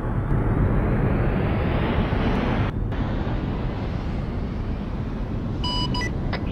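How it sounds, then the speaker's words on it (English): A jet aircraft engine starting up in the military game ArmA 3, a loud, steady broadband roar that runs throughout, with a few brief electronic beeps near the end. "All my jet is starting on its own."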